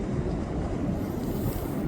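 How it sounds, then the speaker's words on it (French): Ocean waves wash in a steady, broad rush of surf, blended with wind noise against the microphone and with no voices. "faire une méditation avec les vagues, avec cet océan et ce qui nous entoure."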